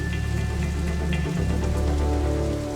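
Rain falling outdoors during a cooking competition, a steady dense patter on surfaces, continuous throughout at a moderate level, with no talking.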